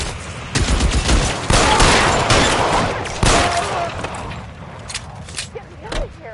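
Heavy gunfire from a shootout in L.A. Noire, with loud sharp bursts and rattling volleys repeating close by, mixed with shouting voices.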